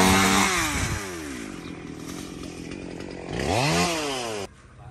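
A chainsaw cuts through tree branches, its engine revving high and dropping in loud rising and falling sweeps before cutting off sharply near the end.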